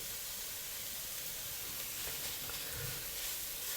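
Ginger and garlic paste frying with onions in a pan for a Chinese curry luncheon meat and potato stir fry, a steady faint sizzle and hiss throughout with no talking.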